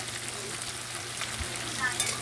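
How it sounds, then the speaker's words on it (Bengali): Onions fry in oil in a home kitchen pan, giving a close, continuous crackling sizzle with faint stirring touches and no talk over it. "পেঁয়াজটা ভালো করে ভেজে ভেজে নিই"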